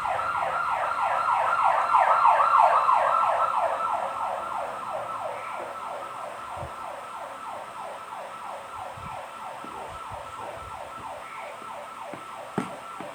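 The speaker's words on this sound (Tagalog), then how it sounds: "May ambulansya." An ambulance siren wails in a steady up-and-down pattern from outside, loudest early on and then fading gradually as it passes by, with faint kitchen clatter underneath.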